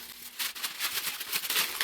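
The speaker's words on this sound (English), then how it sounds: "just take your sheet of parchment paper. If you'll just crumple it up like this" A sheet of parchment paper is crumpled by hand in a kitchen, giving dense, close crackling and crinkling that continues without a break.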